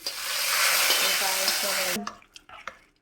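Payasam, a sweet rice pudding, being stirred in a cooking pot, a steady scraping and bubbling sizzle for about two seconds before it drops to a few soft clinks and taps.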